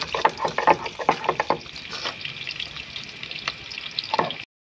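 Onions fry with chicken in a kadai, giving a close hissing sizzle punctuated by bursts of stirring and scraping, then a quieter steady fry before an abrupt stop, with no talk.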